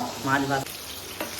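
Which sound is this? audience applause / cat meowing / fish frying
fish frying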